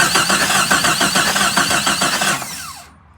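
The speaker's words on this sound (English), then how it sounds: "So if you guys watch me click the power coming off the battery, it'll crank." A Jeep Comanche engine cranks on its starter, triggered at the starter solenoid, with a fast steady mechanical churning that runs loud and close for about two and a half seconds before winding down and stopping.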